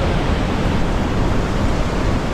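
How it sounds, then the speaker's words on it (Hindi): The Saraswati river rushes beneath Bhim Pul near Mana village in a loud, unbroken roar of churning water, heard close and alone with no voices. "ये है सरस्वती नदी का नदी बह रही है"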